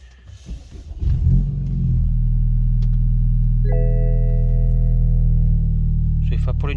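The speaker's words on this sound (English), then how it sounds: "Oh dear, that's very rough then. So yeah, that's how you know you have a vacuum leak." Car engine idling roughly with a vacuum leak, a loud steady low rumble after a brief rev-up, with an uneven tone throughout.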